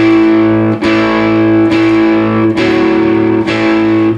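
A plucked string instrument repeats a phrase from the Beaver Slide Rag twice, a series of evenly spaced sustained notes struck clearly and closely with nothing else audible.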